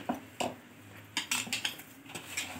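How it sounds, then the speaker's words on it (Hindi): Spoon scraping and clinking against a bowl while potato samosa filling is mixed with coriander, green chilli, cumin, ajwain, coriander powder and mint, in several separate bursts of clatter. "इसको मैं अच्छी तरह मिक्स कर लूँ।"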